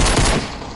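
Fortnite pistol fire rings out in a short, loud, close burst of gunshots that fades quickly in under a second.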